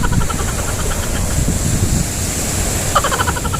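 Sea waves roll in at a beach, a continuous loud rushing wash of surf with wind buffeting the microphone and no voices heard.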